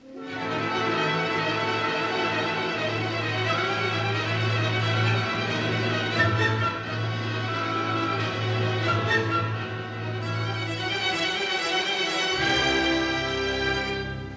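Fast Sibelius orchestral notes buzz and swirl like an insect swarm over a sustained low string drone, dense and loud throughout, with no voices.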